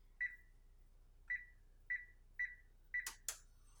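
Five short electronic beeps from an oven control panel as the preheat temperature is set to 325 degrees Fahrenheit, spaced irregularly and close by, followed by a couple of brief clicks or taps.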